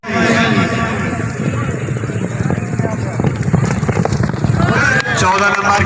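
Horses gallop at a tent pegging and horse show in Bura Mandi Bahauddin, Punjab, their steady hoofbeats running under loud, continuous announcer commentary and crowd noise.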